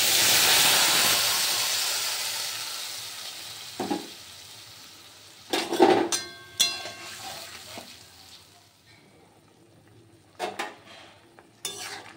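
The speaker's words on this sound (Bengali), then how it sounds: "হালকা ভেজে নিচ্ছি, তারপর ঝোলের মধ্যে দিয়ে দেব" Tender vegetable stalks fry lightly in a hot pan, opening with a strong sizzling hiss that fades, broken by sharp utensil clinks and stirring scrapes.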